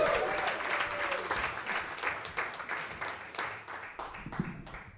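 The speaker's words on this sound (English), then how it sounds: "Your clapping triggers me." Comedy club audience applauding and clapping for a comic coming on stage, a full burst that gradually thins into fewer, sharper individual claps as it dies down.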